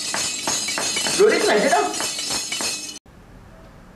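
A balafon plays a rhythmic melody of rapid wooden strikes, close and moderately loud, while someone speaks over it before it cuts off abruptly.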